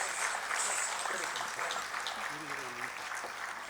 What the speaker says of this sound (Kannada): ಅವರಿಗೆ ದೊಡ್ಡ ಚಪ್ಪಾಳೆಯೊಂದಿಗೆ ಧನ್ಯವಾದಗಳನ್ನು ತಿಳಿಸೋಣ